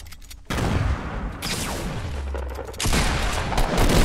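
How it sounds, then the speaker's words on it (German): Grenade blast in Fortnite Battle Royale: a sudden loud burst at half a second kicks into dense roaring noise, followed by a rumbling low tail and a second surge of gunfire-like crackle near the end. "Granate."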